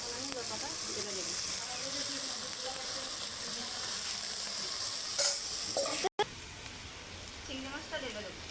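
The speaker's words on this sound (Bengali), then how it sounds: "এখন আমি লতাটা ঢেলে দেবো।" Lata vegetable poured into cooked spiced masala in a pan, with steady close sizzling and frying and some stirring, while someone speaks over it.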